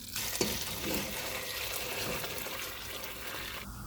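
A big pot of Greek lemon chicken soup is poured into a large strainer, a continuous loud rush and splash of liquid lasting several seconds.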